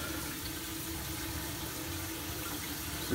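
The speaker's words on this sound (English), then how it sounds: "Next, we're gonna turn on the faucet. Make sure the cold water is working." Cold water runs steadily from a newly installed kitchen faucet, a constant soft hiss and splash into the sink, fairly quiet and uninterrupted, with no talking.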